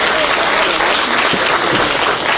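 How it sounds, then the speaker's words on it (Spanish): A church congregation claps loudly and continuously for God during a worship service, close and full, with faint voices mixed into the dense applause. "Dale un fuerte aplauso a Dios."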